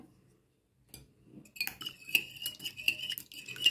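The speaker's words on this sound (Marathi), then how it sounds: "मी इथे हे दाखवण्यासाठी आपण ह्यानी फेटून घेऊया" An egg mixture for cake is whisked by hand in a bowl, starting quietly, then settling into a quick, steady run of light metallic clinks and scrapes close by.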